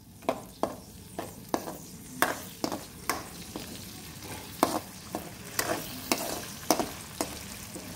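Spices temper in coconut oil, sizzling softly in a pan while a spoon taps and scrapes against it in regular knocks about every half second.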